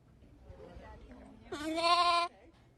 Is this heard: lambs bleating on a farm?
yes